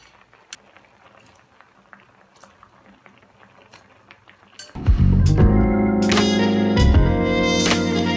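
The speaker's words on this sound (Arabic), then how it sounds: "هي خلاص اهي ابتدت تغلي" A quiet simmer with faint pops, then loud vigorous bubbling takes over as water in a pot comes to a rolling boil, close up.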